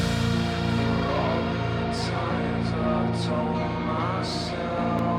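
Two clean electric guitars trade phrases back and forth in call and response in a nu-metal style verse, steady and mid-loud over a sustained backing, with brief bright accents recurring, and no voice.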